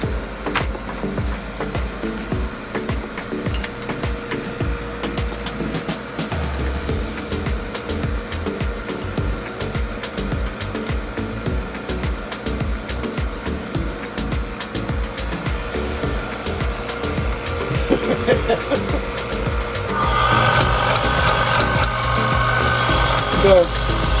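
An oil mist eliminator with a clean filter runs continuously, a steady mechanical hum and whir close by that strengthens near the end, with a person talking over it.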